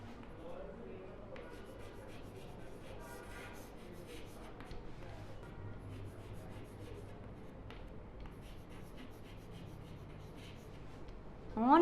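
Pen writing on paper in a third-class English lesson, faint scratchy strokes over several seconds with soft voices in the background.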